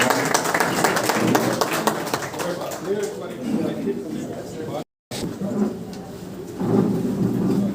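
Audience clapping welcomes the chief guest at a literary gathering at the Teacher Home in Bathinda, a dense, continuous wash of applause that holds steady for several seconds, with a brief dropout partway through.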